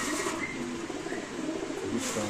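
Soft, low cooing of pigeons at a pigeon market murmurs continuously, with a few faint higher chirps mixed in.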